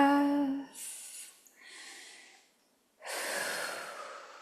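A slow, deep breath taken in a quiet room, an airy inhale in two drawn-out pulls, a short pause, then a fuller breath, heard close and clear, following a brief trailing voice at the start.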